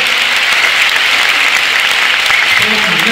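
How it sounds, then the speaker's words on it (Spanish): Dense audience applause at a scholarship ceremony, loud and continuous many-handed clapping filling the whole stretch without a break. "Empezamos un aplauso,"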